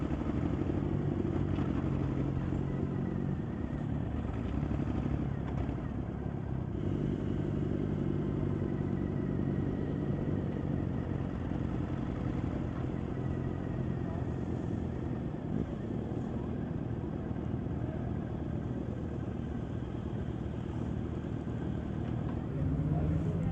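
Motorcycles on the Distinguished Gentleman's Ride 2017 charity run in West Sussex roar through a tunnel, a dense, sustained, loud engine drone echoing throughout, with voices partly audible beneath it.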